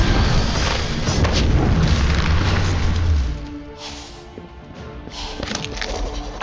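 A heavy bomb-spell blast from the Harry Potter: Magic Awakened duel game booms loud and deep for about three seconds, then decays into a crackling rumble with scattered pops and a swell of noise near the end.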